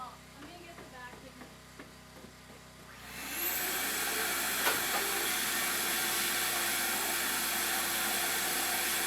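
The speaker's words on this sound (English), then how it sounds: "Let me get the vacuum." A vacuum cleaner switches on partway through, its steady broadband roar and whine starting abruptly after a few seconds and holding loud to the end, with faint voices and clatter before it starts.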